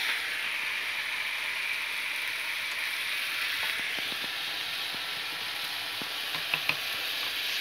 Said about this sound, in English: stir the egg